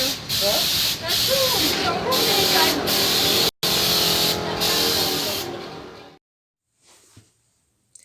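Paint spray gun spraying yellow wall paint from a spray cup, steady loud hissing in repeated bursts with short breaks, then cutting off into near silence.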